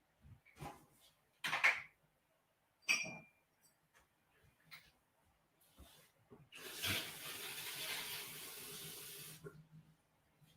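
A glass is filled from a kitchen tap: a few clinks and handling knocks, then a steady rush of running water for about three seconds before it stops, with faint movement afterward.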